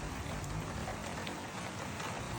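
Rain falling steadily on a garden, a dense even hiss of drops on leaves and surfaces, constant and moderately quiet with no voices.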